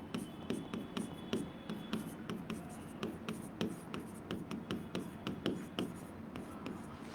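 Chalk or marker strokes on a board during a Bengali-language grammar lesson, steady repeated scratching taps in quick rhythmic bursts, close and fairly quiet, with faint low room murmur beneath.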